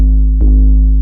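A plain, undistorted Mezz 808 bass drum sustains as a deep, booming low tone throughout, with a brief second hit landing near the middle, loud and clean with no added grit.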